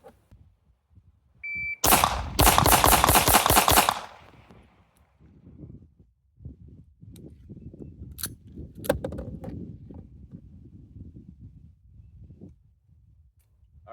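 A Sig P365 pistol fitted with a Radian Ramjet compensator fires a fast, loud string of shots for about two seconds, followed by scattered quieter clicks and handling noises.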